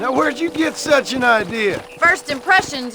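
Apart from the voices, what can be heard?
None of the usual background noises is heard.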